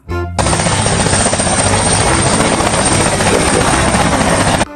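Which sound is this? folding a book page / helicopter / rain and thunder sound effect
helicopter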